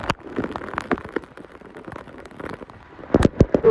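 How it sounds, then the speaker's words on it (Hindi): Heavy rain falls outdoors, making a continuous crackling patter that swells into louder, sharper bursts near the end. "बारिश बहुत तेज हो रही है"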